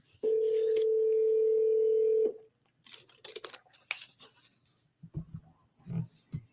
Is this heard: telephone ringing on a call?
yes